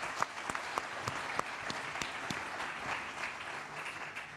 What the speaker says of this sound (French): Bravo, oui, on peut l'applaudir.